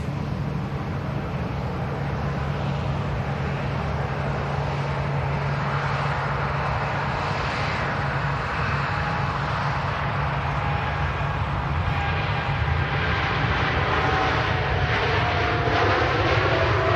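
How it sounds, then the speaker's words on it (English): A TUI Boeing 787 Dreamliner airliner heading for Barbados departs Manchester Airport, its steady jet engine roar sustained and fairly distant, broad and unbroken throughout. "we'll keep eye on this TUI Dreamliner, making its way down to Bridgetown, Barbados"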